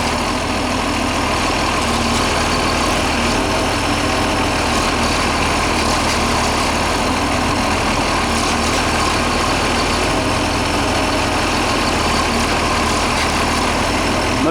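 A 1981 Case 660D tractor's diesel engine runs steadily and loudly as the machine is raised and lowered off the ground, a dense low rumble with no change in pace and no talk.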